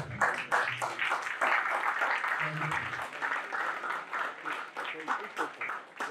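A standing audience claps to welcome a speaker at a motivational talk, with dense, steady applause held for about six seconds while voices and cheers rise over it.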